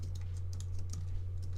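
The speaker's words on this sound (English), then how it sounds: "Let me just type that into the..." Brief burst of typing on a computer keyboard, a few quick key taps over a steady low hum, no talking.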